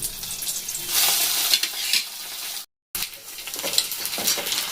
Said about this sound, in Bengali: এখন এবার আমি আলুগুলোকেও ভেজে দেবো।